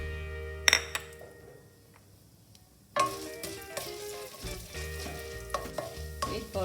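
Urad dal dropped into a tablespoon of hot oil for ridge gourd chutney: a soft, steady sizzle with a few clinks early on, then a louder burst of frying and stirring with scattered scrapes and taps.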